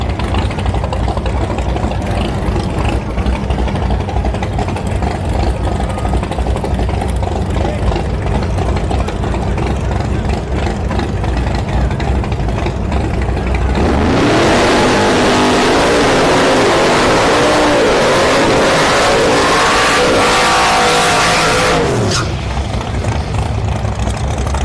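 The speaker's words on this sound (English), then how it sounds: "It's the third gen Camaro we saw yesterday. Nitrous. And he's going up against the turbo SN95 Mustang." A nitrous-fed third-generation Camaro and a turbocharged SN95 Mustang at a no-prep drag race, engines rumbling at idle before a loud, roaring launch that fills the air for several seconds and then drops away.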